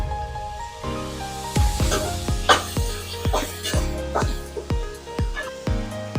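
Onions and turmeric sizzle in a hot pan while a spoon scrapes and clacks against it in a steady rhythm, close up, as a voice talks over the cooking.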